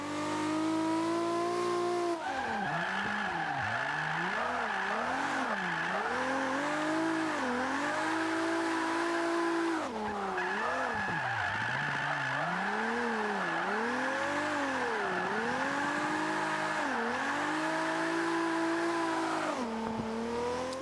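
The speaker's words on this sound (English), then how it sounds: "I don't know if you can hear, but the car sort of bogs down a little bit" Toyota Supra drift build in Forza 5 with a loud, continuous engine note that sags and bogs down as revs dip and recover in repeated swells through corners, with a gear-change break midway.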